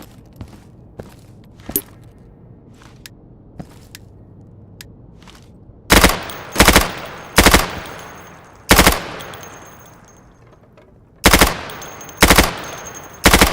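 Primary weapon fire in the Insurgency game's training range, shooting targets through plywood: after a few faint clicks, loud close bursts of several rounds ring out one after another, separated by short pauses.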